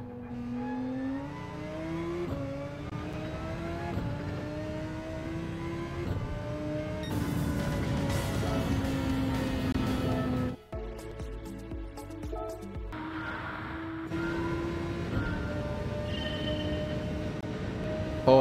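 A race car in Gran Turismo 7 on a European circuit roars through rising engine notes with gear shifts. The pitch drops sharply under braking and downshifts into a corner, then climbs again as it accelerates away, loud and continuous.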